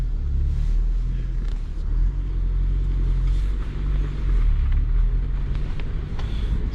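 A Ford Bronco on the move, heard from inside as a steady, loud low engine rumble with road and wind noise, continuous and without pauses.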